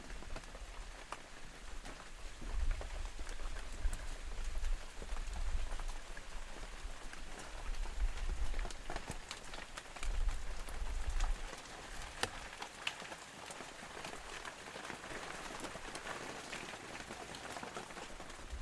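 Steady rain falls outdoors on a wintry day, a continuous soft patter with gentle swells in intensity and no voices, moderately faint throughout.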